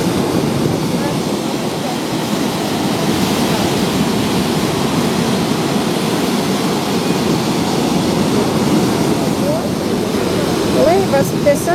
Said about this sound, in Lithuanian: Pasagos krioklys.